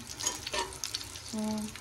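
Cashews, almonds and raisins frying in a kadhai, close-up, with a steady crackling sizzle and scraping stir strokes, alone for under two seconds.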